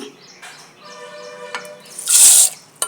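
Toor dal being rinsed with water, with quiet sloshing and trickling that builds to a brief louder rush of pouring water near the end.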